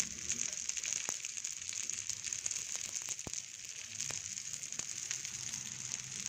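Food frying in a little oil on a pan as it cooks on its second side, a steady close sizzle with scattered crackles and pops throughout, no talking.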